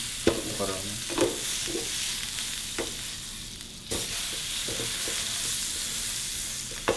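Steak sears in butter and olive oil in a pan, a loud, continuous hiss and sizzle close up, broken by occasional clinks and scrapes of a utensil.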